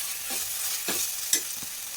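Masala fries in a pan, a steady hissing sizzle with a few soft stirring strokes and one brief clink, no talking.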